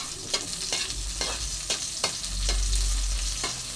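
Hot cooking oil sizzles steadily in a pan with a broadband hiss, broken by sharp spatters and stirring scrapes roughly every half second, swelling louder in the final second and a half; no voices.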